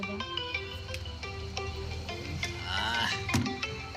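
A phone ringtone plays a repeating melodic pattern of short tones, steady and moderately loud, with a faint voice and household noise underneath.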